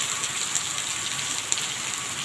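Steady rain falls around an outdoor Thai work site, a continuous hiss of drops with a few sharper taps standing out, even and moderately loud throughout.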